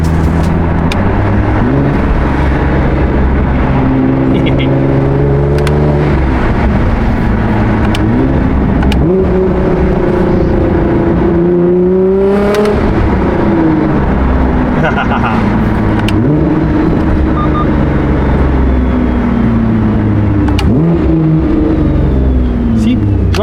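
A Nissan GT-R R35 being driven, its engine droning steadily from inside the cabin and rising and falling in pitch through the gears, with someone talking throughout.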